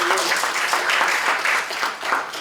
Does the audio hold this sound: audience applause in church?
yes